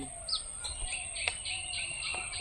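Small birds chirp and tweet in short bursts against a steady outdoor hiss, with a couple of sharp calls standing out; no talking.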